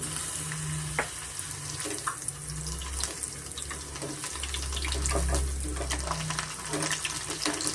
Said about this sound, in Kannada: ಬೆಳ್ಳುಳ್ಳಿನ ನೀರಿನಂಶ ಎಲ್ಲ ಹೋಗಬೇಕು ಅಲ್ಲಿವರೆಗೂ ನಾವು ಫ್ರೈ ಮಾಡ್ಕೊಬೇಕಾಗುತ್ತೆ